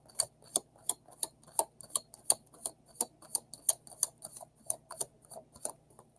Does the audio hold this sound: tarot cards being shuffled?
yes